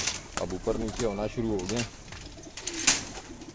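Highflyer pigeons in a cage give soft, low cooing close by, under a voice talking through most of the clip, with a faint flutter near the end.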